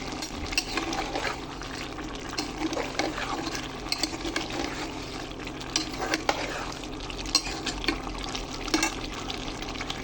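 Potato curry (aloo dum, cooked beef-style) stirred in a pan, a steady wet sizzle with repeated scraping strokes of the spoon running throughout, close and moderately loud, no voices.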